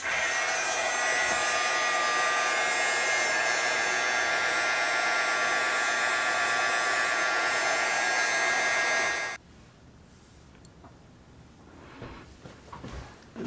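A hair dryer blows steadily and loudly for about nine seconds to dry gesso paint, then cuts off abruptly, leaving faint room noise and small handling sounds.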